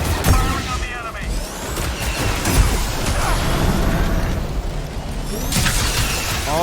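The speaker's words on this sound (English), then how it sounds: "Firing on the enemy." Video game gunfire aimed at the enemy pops out in loud rapid bursts amid a dense, crowded mix of explosions, impacts and game noise, with voices calling out over it.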